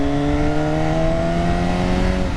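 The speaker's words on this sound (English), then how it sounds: "I cannot get over how good this exhaust sounds, just the regular stock exhaust." A loud, close MV Agusta F4R motorcycle engine through its stock exhaust, holding a rich, throaty note with steady harmonic drone, rising slightly in pitch as it revs.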